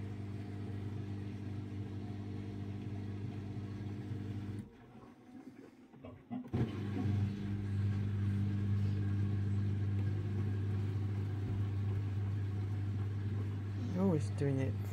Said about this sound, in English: Very unbalanced distributional mini spin.